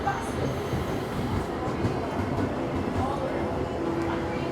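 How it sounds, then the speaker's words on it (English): A Brightline train arriving at a station rumbles steadily along the tracks with continuous rolling noise and faint wheel squeal, a dense, unbroken mechanical roar throughout. "Here's the train."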